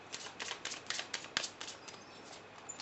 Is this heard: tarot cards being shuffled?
yes